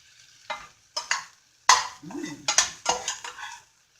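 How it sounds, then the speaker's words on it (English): Diced apple mixture sautés in a pan as a spoon scrapes and stirs, giving a string of separate close scraping and clattering strokes over a soft sizzle, with brief pauses between them. "I'm going to keep sauteing this apple mixture"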